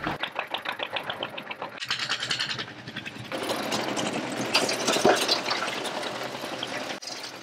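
A crusher machine running while it recycles construction debris, a loud, close, grinding and rattling drone with a pulsing rhythm that shifts as material is fed through.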